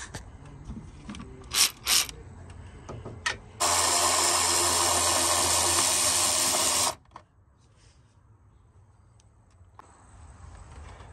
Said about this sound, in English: Get it with a ratchet wrench